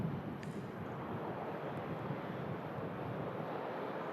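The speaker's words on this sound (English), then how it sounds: "ATR 72600. Aircraft coming in from Dublin." An Aer Lingus ATR 72-600 turboprop arrives from Dublin at Manchester Airport, a steady broadband engine roar from a distance with a faint wind rush and no voices.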